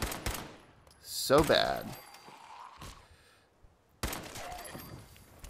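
Sharp, rough pipe pistol gunfire from Fallout 4, a short cluster of shots that rises above a voice before he speaks again briefly.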